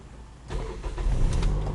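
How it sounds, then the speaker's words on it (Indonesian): A manual car's engine starts up at a key knob: quiet at first, then the starter catches about halfway through and the motor settles into a rising, steady idle hum, with no voices. "Akan kita coba nyalakan mesinnya. Nyalakan mesin."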